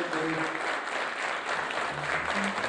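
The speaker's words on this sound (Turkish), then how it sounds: "Abi bir ayağa kalkabilirsen alkışlayalım." Audience applause at a Silivri anniversary gathering of the Denizaltı Orchestra, honoring a founding member, with steady dense clapping throughout and faint murmurs of crowd underneath.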